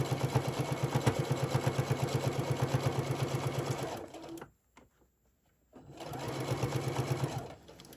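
A sewing machine stitches the seams of a Halloween print fabric bowl koozie, a fast steady mechanical whir that stops briefly in the middle and then starts again, loud and close.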